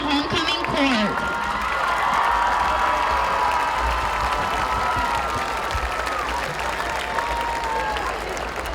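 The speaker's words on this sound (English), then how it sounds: "Let's give a round of applause for the 2021 homecoming court." Stadium crowd at a high school football game applauds and cheers for the homecoming court, a loud sustained roar of clapping with whoops and shouts, continuous throughout.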